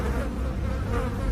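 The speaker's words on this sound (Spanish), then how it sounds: "salió una gruesa nube de moscas" A thick cloud of flies buzzes steadily and densely, a continuous close insect drone with no pauses, as a door swings open onto a decomposing body in a horror tale.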